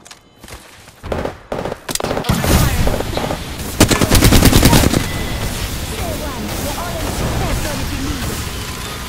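Gunfire in an Apex Legends match: a few isolated shots, then dense rapid automatic bursts building to a loud close volley, trailing off into lighter scattered fire and rumbling background noise.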